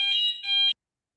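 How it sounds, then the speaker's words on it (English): A fire alarm sounds in a building basement with shared laundry machines, two loud electronic buzzing tones with a brief dip between them, cutting off abruptly into silence. "Sorry, I had to pause this because of the fire alarm."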